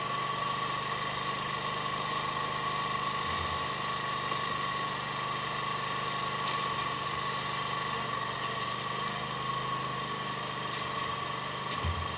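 A zero-turn lawn mower's small engine runs at a steady, droning idle throughout, close by, with a constant hum and no voices.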